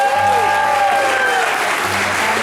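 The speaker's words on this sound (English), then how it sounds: "Please give yourself a big round of applause." A show audience at Knott's applauds themselves for Krazy Kirk and the Hillbillies, loud dense clapping lasting a couple of seconds, with a voice and tones faintly underneath.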